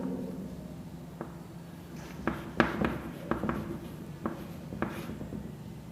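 Pen or pencil writing by hand on paper while solving a math problem on sets, heard close and fairly quiet as scattered short scratches and strokes over a soft background.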